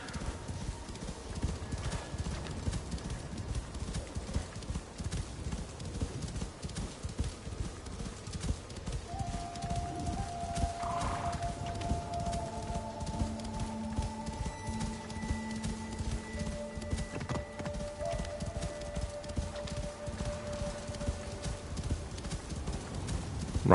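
Hooves clip-clop in a quick, steady rhythm as a horse gallops in the video game Assassin's Creed Shadows, with a few brief tonal game sounds layered over the continuous hoofbeats.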